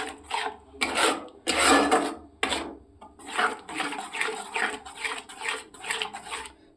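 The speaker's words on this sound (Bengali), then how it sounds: "এইবার এটাকে আবারও খুব ভালো করে কষাবো" Prawns are sautéed bhuna-style in a pan, the spatula scraping and stirring in a steady series of rasping strokes, close and moderately loud, with no talking.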